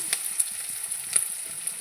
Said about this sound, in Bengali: রসুনটা হালকা ভাজা হবে, বেশি ভাজা হবে না।